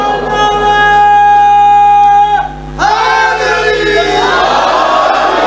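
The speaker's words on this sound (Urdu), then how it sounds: "نعرہ سناؤ مجھے کوئی شیروں والا" A large crowd chants a slogan in loud, sustained unison, breaking briefly before the chant swells again, filling the space with massed voices.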